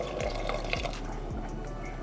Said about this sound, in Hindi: और गर्म पानी डाल दो पहले ही केटल से।